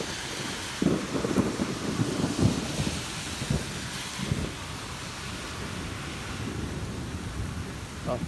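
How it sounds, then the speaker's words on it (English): Thunder rolls through a severe thunderstorm in low, rumbling swells that rise and fade over several seconds, mixed with steady rain and gusts of wind buffeting the microphone. "The thunder is everywhere."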